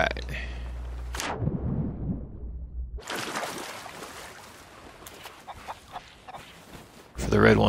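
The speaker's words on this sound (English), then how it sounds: "Might as well take an extra chicken with me" Chickens clucking in the Sea of Thieves pirate game, scattered squawks and clucks amid ambient noise, with brief talk near the start and a louder burst at the end.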